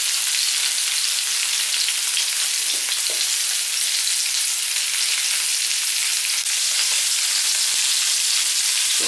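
Potatoes fry in a pan with a steady, dense sizzle and crackle, loud and close, with faint stirring scrapes and no voices.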